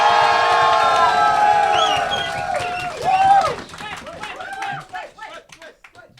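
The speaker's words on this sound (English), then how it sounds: "if you thought that Team Wedge won, give me a cheer" An audience cheers for Team Wedge at a Bugglebots robot combat event, a loud burst of many voices shouting and whooping together that fades into scattered shouts and chatter.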